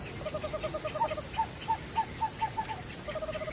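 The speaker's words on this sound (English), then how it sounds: "The barn owl first appeared in the Paleogene and remains one of the oldest extant owl lineages" A barn owl gives a quick series of short, evenly spaced calls, a string of regular notes set against a quiet night background.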